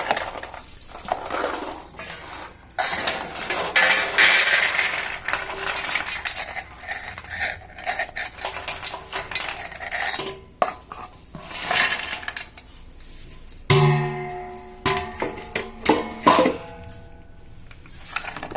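Fried dry fruits are stirred in ghee in a metal pan, with repeated close scraping and clinking of a spoon against the pan in an irregular rhythm, no talking.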